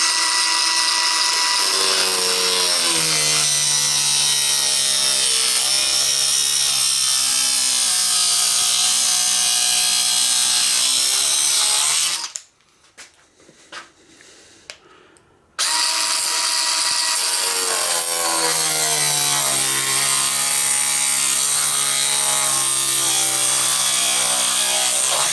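Bosch Easy Cut&Grind cutting material held in a jig, a loud sustained high-pitched whine whose pitch drops under load as the blade bites. It cuts out for about three seconds of near silence with faint clicks, then restarts and runs steadily again.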